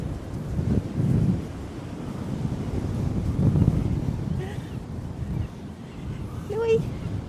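Gusty wind buffets the microphone on a chilly beach, a steady low rumble that swells and eases throughout, with a brief animal whine near the end.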